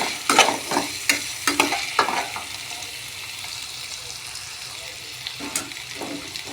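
Small cut potatoes are stir-fried in a pan of cooked spice paste for a vegetarian dish. A spatula clacks and scrapes in a quick cluster of strokes over a soft sizzle, then pauses before a few more scrapes. No one speaks.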